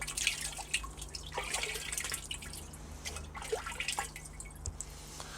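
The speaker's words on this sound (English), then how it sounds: "As it's raining outside, I'll just show the water coming into the water butt. In comes the water." Rainwater drips and trickles into a garden water butt outdoors during rain, with faint irregular splashes and patters over a low steady background hum.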